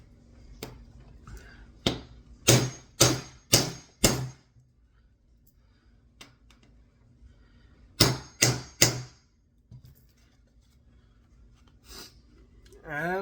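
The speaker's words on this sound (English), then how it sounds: "I got my first rivet hammered in" Hammer strikes on a rivet being set, two quick bursts of four sharp metallic blows each, close and loud, separated by quiet with a few faint clicks.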